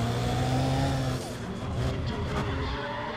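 A race car in Need for Speed: ProStreet at Mondello Park roars at high revs, its engine drone shifting abruptly as nitrous kicks in, with tire noise and a loud sustained rush close by.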